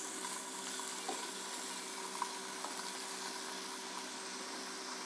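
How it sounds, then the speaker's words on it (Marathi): Paneer frying in hot oil in a pan, a faint, even hiss of sizzling with only a few tiny pops, quiet and steady throughout with no talking. "हे पनीर पॅन तापत ठेवलेलं आहे आणि त्याच्यामध्ये मी थोडं तेल टाकून घेऊया"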